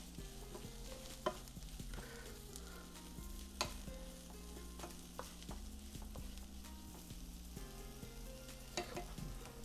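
Onion and green pepper frying in a pan, a faint steady sizzle with occasional spatula scrapes and stirring clicks, no voices.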